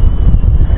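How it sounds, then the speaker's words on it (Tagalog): Strong sea wind buffets the microphone on a fishing trip, a loud, roaring low-frequency gust filling the whole brief moment without any speech. "Malakas yung hangin kapag ganito."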